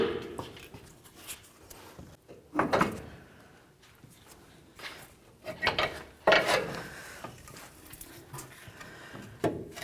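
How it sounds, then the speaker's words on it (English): Ratchet working on front lower control arm bolts of a Ford Expedition, irregular bursts of clicking and metallic clatter spread through the clip, close but fairly quiet, no one talking. "Now let's go ahead and remove the rearward bolt as well."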